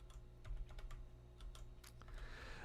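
A few quick, quiet computer keyboard keystrokes sound close by while Python code is being copied and pasted, separated by short pauses over a low background hum, with no talking.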